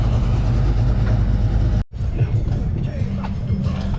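A supercharged 383 V8 in a clean Chevrolet Tahoe at a car show, revving loud and close with a heavy low rumble, cutting out sharply for a moment, then idling back up under crowd chatter and talk.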